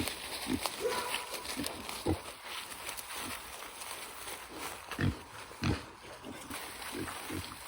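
A string of soft, irregular pig grunts and snuffles from a few backyard pigs nearby being fed watermelon rinds, scattered over a steady outdoor background.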